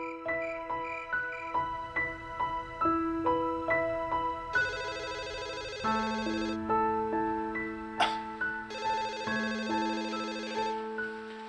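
A telephone rings indoors in a family home with a melodic electronic ringtone, its tuneful phrases repeating steadily and loudly with no voices.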